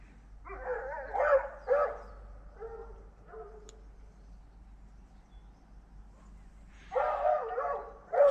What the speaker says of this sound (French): Comme les chiens qui aboient